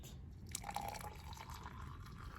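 Campfire-percolated coffee pours from a percolator into a cup inside a minivan, giving a faint, close trickle and drip of liquid that fills steadily for a couple of seconds.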